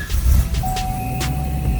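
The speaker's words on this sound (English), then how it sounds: "hold that little select button, hold that button, and it will beep" Inside a C7 Corvette Stingray Z51, a single steady electronic dashboard beep sounds and holds for about a second as the select button is held to reset the oil life, over a low engine or cabin rumble.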